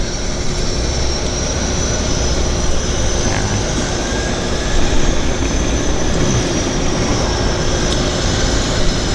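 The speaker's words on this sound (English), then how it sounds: "And a twin otter is coming out," A Twin Otter floatplane taxis out across the water at a harbour airport, its propeller engines giving a steady, continuous drone with no pauses and no talk.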